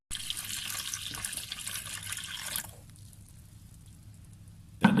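Warm milk and butter poured into a machine while making bread dough; a close liquid pour rushes for a few seconds, then fades to quiet before a brief louder knock near the end.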